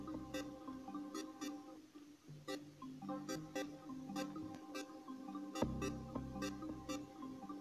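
A beat built in the Caustic 3 music app with several layered instruments: steady repeating bright percussion hits over bass and tonal parts, playing at a moderate level with no talking.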